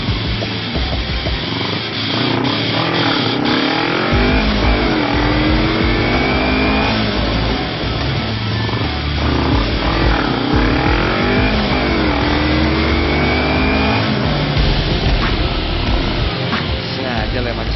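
Loud, continuous engine noise of cars revving and accelerating past in a street race, with a motorcycle-like whine rising and falling throughout and voices talking over it.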